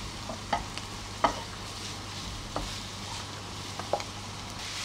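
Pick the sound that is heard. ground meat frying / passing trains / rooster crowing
ground meat frying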